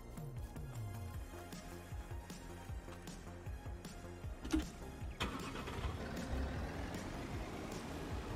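A car engine in Farming Simulator 22 starts up and drives away, the game's engine drone rumbling steadily and building in the second half, with no talk.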